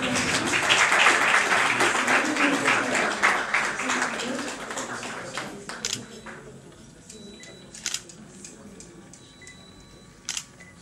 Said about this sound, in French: nous allons applaudir le Dr Denis Nianzou.